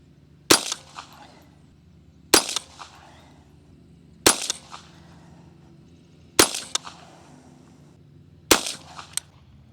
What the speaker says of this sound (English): Ran all 10 of those rounds, no issues.